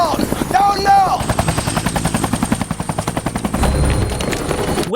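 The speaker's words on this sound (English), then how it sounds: "Wait, why is the helicopter flying away?" A helicopter in the film Resident Evil: Apocalypse beats out a steady, rapid rotor chop, close and loud, with gunfire mixed in and a brief voice near the start.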